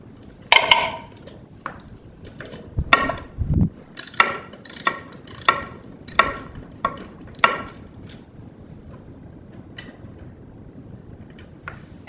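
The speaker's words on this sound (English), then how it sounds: "using a deep well socket, I'm going to remove the spark plug" A deep well socket ratchets a spark plug out of a lawn mower engine: bursts of quick clicking pawl ticks, a few short scrapes and knocks, close up and with no talk.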